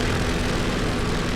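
Combat Pilot flight sim aircraft engine roaring at takeoff power, a steady, loud, dense broadband drone with a low hum throughout, no voices.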